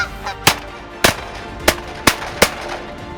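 Geese honking during a goose hunt in Alberta, five loud, sharp honks in a loose rhythm, close by, over a low background.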